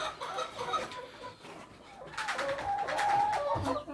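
Hens and a rooster in a coop give off a mix of clucks and soft croaking calls, busy and close, rising into a louder chorus in the second half.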